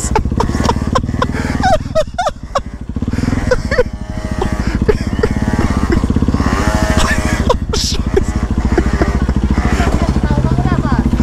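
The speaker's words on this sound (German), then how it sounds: "Ja, aber das war dann mein Motorrad." Peugeot Speedfight scooter engine running loud and close at a fast-food drive-through, a constant buzzing two-stroke drone throughout, with some short voice sounds over it.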